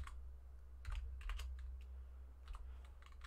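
Quiet clicking of a computer keyboard as someone types a short entry, a few scattered bursts of keystrokes over a low steady hum.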